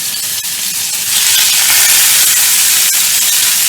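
Chicken sizzling in hot oil in a pan, a loud, steady broadband hiss and crackle that swells after the first second and holds, with a couple of sharp pops.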